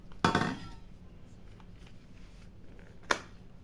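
Plastic sipper water bottle lid snapping shut and being handled, a sharp close click followed by quiet rustling, then a second crisp click near the end.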